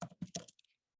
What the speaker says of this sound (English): And we'll type in our email.